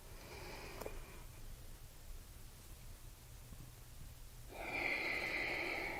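A slow breath drawn in during a postnatal yoga stretch: soft, airy breathing with a faint sniff early on and a fuller, louder inhale near the end, heard alone without talk.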